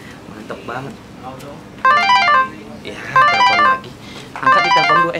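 A mobile phone ringtone plays in three loud, repeating bursts of bright warbling tones with short gaps between them, a person talking quietly underneath.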